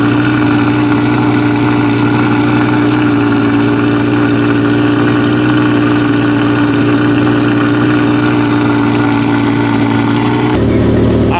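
A sports car engine runs loud and close with a steady, rumbling drone, then shifts pitch abruptly near the end as it revs.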